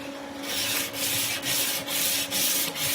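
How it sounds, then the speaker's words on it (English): A coarse old sanding belt is rubbed by hand along a hand-forged pata sword blade in steady back-and-forth strokes, loud, close and rhythmic, with short pauses between passes. "I'm using a fairly coarse piece of sandpaper here, an old belt."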